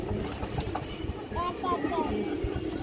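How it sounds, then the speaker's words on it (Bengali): A red-eyed white male pigeon, a large bird, coos in soft low bursts amid a busy background, with people talking over it throughout. "একটা লাল গের চুনা নর কবুতর"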